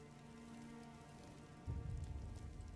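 Rain falls in the Daggerfall game world, a faint steady patter that thickens into a louder low rumble of heavier rain midway, with no voices.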